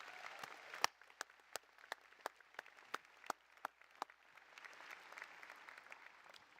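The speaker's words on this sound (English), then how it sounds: "Let's give him another round of applause," Applause at a spring commencement ceremony, sparse and distant at first with a few sharp individual claps standing out, then filling into a soft, steady crowd clapping toward the end.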